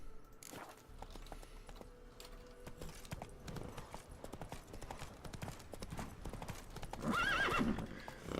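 Roach, Geralt's horse in The Witcher 3, clip-clops along at a steady walk with rhythmic hoofbeats, then lets out a loud whinny near the end; game ambience underneath, no talking.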